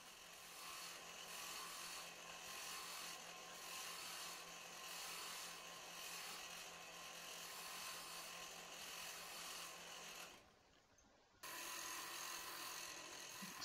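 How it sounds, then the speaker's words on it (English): A roughing gouge cuts a straight taper into a wood spindle on a lathe, a steady close scraping hiss that runs almost unbroken, with a brief pause near the end before the cut resumes. "I'm using the roughing gouge to just get that straight line initially started"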